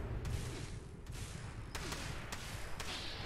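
Gunfire in the post-apocalyptic game Fallout 76 during a PvP fight, a few scattered sharp shots over a rumbling low background, moderately faint and irregularly spaced.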